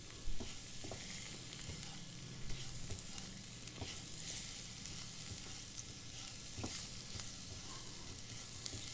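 Dry tinda sabji is stirred and fried in a pan after a quarter tablespoon of garam masala goes in, giving a steady close sizzle with scattered scraping knocks from the stirring, and no talking.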